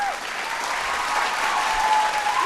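Loud, steady audience applause for a singer after a performance on a vocal battle television show, a dense wash of clapping from a large crowd filling the room, with faint voices underneath.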